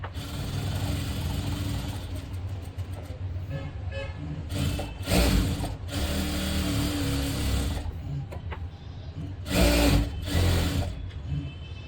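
Sewing machine stitching a blouse, running steadily with a continuous mechanical whir and two short louder bursts, with no talk.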